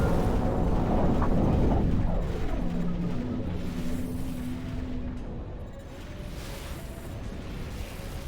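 The giant weapon Mother Will blows up in Armored Core: For Answer, a loud, rumbling explosion with a roaring blast and sweeping debris that swells over the first couple of seconds, then settles into a long, sustained low roar that slowly fades.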